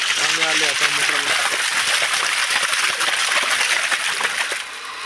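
Water gushes out from a pump motor at a well, a steady broadband rush that holds loud throughout and dips slightly near the end, with a voice heard briefly at the start.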